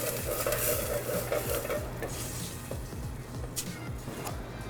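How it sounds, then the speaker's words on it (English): Onions sizzle steadily in a hot pan while a spoon stirs them, with repeated scraping strokes over a constant frying hiss, close and fairly loud, no talking. "Kind of giving it a stir from here there because I don't want it sitting too long"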